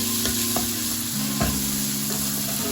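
Green chilies are sautéed with amaranth leaves and beans, giving a steady close sizzle throughout. A few sharp utensil taps against the pan cut through the frying.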